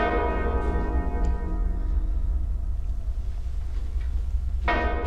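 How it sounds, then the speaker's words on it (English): Bells ring with a sustained, resonant tone that hangs in the air, followed by another loud strike near the end. "everyone heard a loud banging of bells multiple times"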